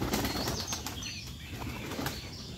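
Pigeons flutter in to land outdoors, a burst of close, rapid wing flapping that carries on steadily over a couple of seconds.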